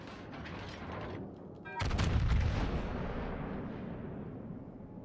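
Naval guns boom in World of Warships: Legends, a sudden loud salvo roughly midway that rolls and fades, over steady background battle noise.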